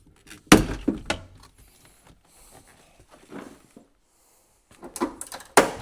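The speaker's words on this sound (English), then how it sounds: "you need to pop the clips off the back of the door card" Plastic retaining clips pop off the back of a 1975 Ford F150 door card in sharp, separate snaps, a few loud cracks at the start and end with quieter creaks and rattles between.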